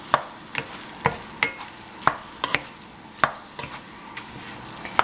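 Fried rice coated in soy sauce being stirred and scraped in a hot pan. Repeated sharp utensil knocks and scrapes come at irregular intervals over a steady sizzle, close and loud, with no talking.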